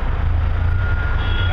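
A Cat 60-ton haul truck reverses underground in a mine, its heavy diesel rumble running steadily and loud throughout, with a faint high reversing tone above it.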